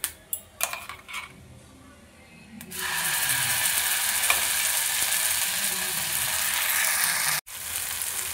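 Ground spice paste dropped into hot oil with whole cumin for paneer butter masala, a few clinks first, then a loud sudden sizzle that holds steady, broken briefly by a short gap near the end.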